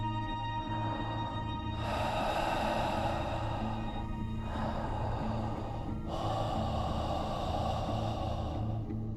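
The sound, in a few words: slow breathing sound effect in a horror story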